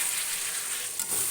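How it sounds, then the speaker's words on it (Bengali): Mutton fat stirred into hot oil with already-fried tomatoes and onions, giving a steady, close sizzle with a soft stirring scrape and no talk. "এবার একটু দিয়ে দিচ্ছি মাটনের যে চর্বিটা ছিল"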